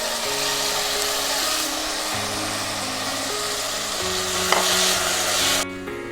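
Chopped tomatoes sizzling in a pan with garlic and turmeric, a steady close frying hiss with stirring, and a brief clatter near the end.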